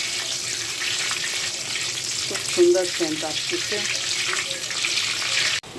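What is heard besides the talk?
bay leaf, cardamom and cinnamon frying in ghee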